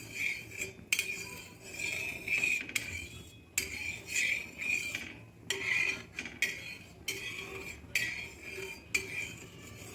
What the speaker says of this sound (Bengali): এবার খুন্তি দিয়ে তেলটাকে আরও ভালো করে তাওয়ার চারপাশে ছড়িয়ে দিচ্ছি